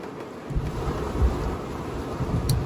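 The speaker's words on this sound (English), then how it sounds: "it's raining like crazy outside" Heavy rain pours steadily outside with low thunder rumbling underneath, a dense continuous wash of sound heard from indoors.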